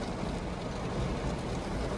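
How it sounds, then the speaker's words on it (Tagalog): Steady, dense roar of heavy rain falling, a continuous broadband wash with no pauses and no voices. "Ang lakas ng ulan."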